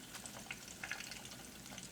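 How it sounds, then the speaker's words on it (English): Oil sizzles and crackles quietly with soft popping bursts as chicken nuggets fry, a continuous faint frying sound with no voices. "while we're finishing up frying our chicken"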